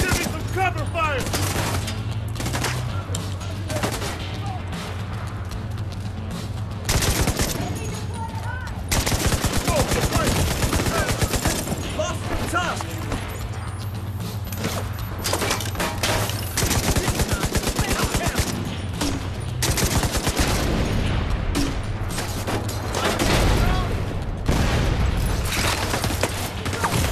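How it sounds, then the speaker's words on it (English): Sustained gunfire from a Division 2 firefight, with bursts of automatic shots and heavy impacts rolling over a constant low game hum, loud and dense across the whole stretch, with scattered voices mixed in. "Cover fire!"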